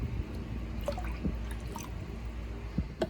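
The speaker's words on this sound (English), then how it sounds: "fill up the aquarium with water up to the maximum level of your aquarium" Water dripping and trickling while an aquarium is filled, with scattered soft drips over a steady low background rumble.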